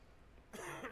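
A character coughs in the video game Quarantine Zone: The Last Check. A short burst of coughing starts halfway through, after near silence, and sounds close and fairly loud.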